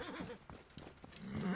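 Horse in Assassin's Creed Origins: short, quiet hoof clops and a faint whinny from the animal, with a rising snort or neigh near the end, heard alone.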